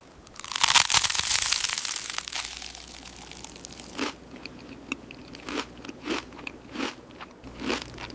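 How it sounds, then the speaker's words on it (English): AI-generated ASMR of biting into fried chicken: a loud, dry crunch opens, followed by a run of crisp, evenly spaced chewing crunches up close. "But the crunch is dry and satisfying."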